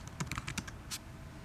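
Quiet, close clicking of a computer keyboard as a restaurant name is typed, a quick run of keystrokes followed by a final isolated key press, with no talk.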